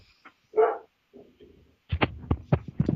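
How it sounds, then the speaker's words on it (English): A dog barks sharply once, then a few quieter whines, followed by a quick run of short, punchy barks close by. "carrying on with the dog noises in the background"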